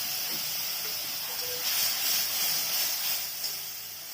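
Ground cumin, ginger, garlic and onion paste hits hot oil in a pan with a loud, steady hiss and sizzle that swells midway and then eases slightly, close up and without talk.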